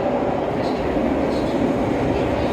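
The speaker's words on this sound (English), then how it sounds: "here comes my little train to Dawlish" A small passenger train on the line to Dawlish rolls in as a steady, loud broadband rumble with faint squeals, continuous and close, with a voice briefly audible over it.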